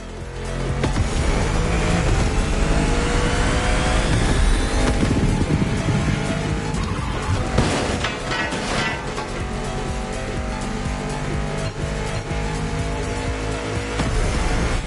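A car in The Crew Motorfest racing game speeds along the wide boulevards of Honolulu, its engine roaring loud and continuous with bursts of squealing tires as it corners.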